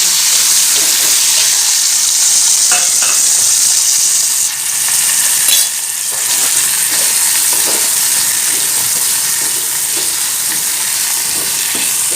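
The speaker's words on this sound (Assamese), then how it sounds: "এই জিৰা ফুটিবলৈ লৈছে" Cumin seeds spluttering and crackling in hot oil in a pan while bitter gourd is cooked, a loud continuous sizzle with a brief dip midway and no talking.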